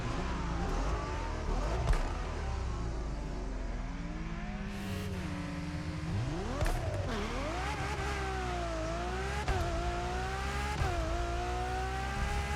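A Ferrari Enzo engine in the video game The Crew Motorfest revs loudly and continuously, its pitch climbing and dropping through repeated throttle blips and gear changes.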